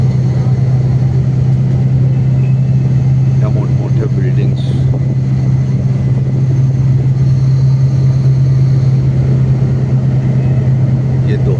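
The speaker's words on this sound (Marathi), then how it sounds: "प्रचंड मोठे रस्ते ट्रॅफिक आहे गाड्यांची पाहू शकता आपण" Traffic on wide, busy roads in Doha, Qatar, a steady broadband rumble with a constant low engine drone and no clear single passes, heard up close with a voice talking over it.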